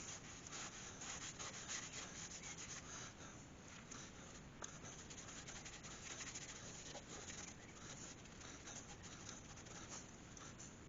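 A paper towel wiping finish directly onto a wooden bowl, giving a continuous soft rubbing and scuffing that stays steady and close throughout.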